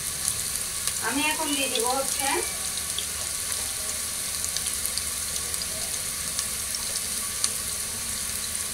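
Chopped onions frying in hot oil for Bengali beef kosha, a steady close sizzle running throughout, with a brief stretch of speech near the start.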